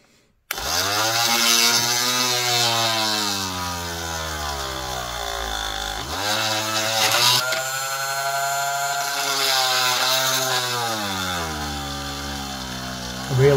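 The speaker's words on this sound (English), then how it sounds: "Now let's see if I've made that hole enough now that I can get my electric drill on it" An electric drill whines steadily while boring a hole in the plastic hull of a Land Raider Spartan model tank, its motor pitch dipping and recovering as it bites, loud and close throughout.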